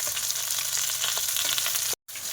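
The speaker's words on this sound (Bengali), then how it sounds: "খুব সুন্দর করে মাছ ভাজে নিচ্ছে একদম লাল লাল করে" River fish frying in a pan of hot oil, a close, dense and steady sizzle with crackling pops that runs throughout, broken only by one short gap, with no voices.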